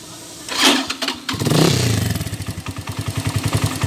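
A Euro 152 motorcycle engine with a valve clearance fault is cranked and catches, then settles into a fast, clattering idle with a rhythmic ticking tap, close and loud.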